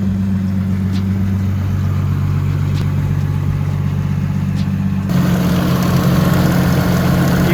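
A Toyota Supra engine runs close by, idling steadily and loud, then its note rises and thickens as it revs near the end, with no talking.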